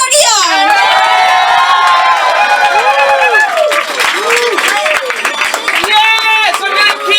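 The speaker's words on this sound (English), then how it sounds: "Yes, I'm gonna keep cheering till he gets there." A comedy club audience at a stand-up Christmas show cheers, whoops and claps loudly as a comedian walks to the stage, with shouts rising over steady applause and a voice calling out near the end.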